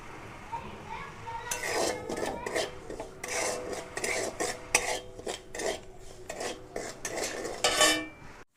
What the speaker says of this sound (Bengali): তো লবণটাকে এখানে ভেজে নেব।